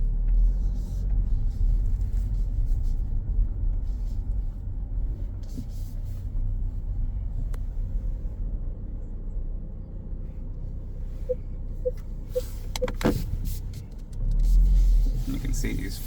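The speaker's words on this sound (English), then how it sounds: "We're gonna put it in reverse and back it up to the garage." A 2021 Jaguar F-Type R-Dynamic reverses slowly toward a garage at a dealership, its engine a low, steady rumble throughout, with a few soft parking-sensor beeps and a heavier surge near the end.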